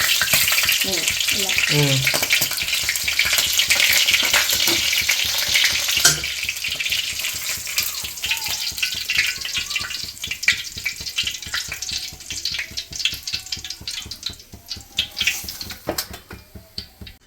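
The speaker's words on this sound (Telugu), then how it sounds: "అదే నూనెలో ఫ్రై ఇప్పుడు అయితే ఫ్రై చే ఆల్రెడీ ఫ్రై మళ్ళీ ఇప్పుడు దాన్ని మళ్ళీ మళ్ళీ ఫ్రై చేస్తున్నాం మనం" Chicken leg pieces being fried again in hot oil produce a loud, continuous, close sizzle with occasional stirring clatter, and the hiss slowly settles into crackling pops.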